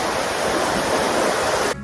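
Powerscourt Waterfall in Ireland pours in a steady, dense rush of falling water, close and loud without a break, then cuts off abruptly at the very end.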